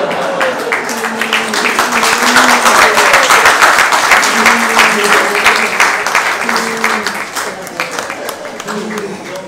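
Audience cheering and applauding at a mock courtroom trial, a loud sustained wash of clapping and shouts that swells and fades, with voices and harmonic tones running underneath throughout.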